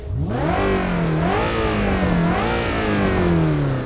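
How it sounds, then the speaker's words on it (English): Synthesized V8/V10 engine of the ETK F-Series grand tourer mod in BeamNG revving loudly and continuously, pitch climbing and falling in repeated sweeps as it accelerates and shifts, close and alone. "the developers of this mod spent a couple of weeks making the engine sounds from scratch for the V8 and V10"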